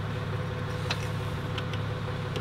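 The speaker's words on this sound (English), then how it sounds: "If you can hear that engine running, it's actually not this car." A Toyota Land Cruiser's engine idles steadily nearby in a driveway, a low continuous rumble with no talk over it.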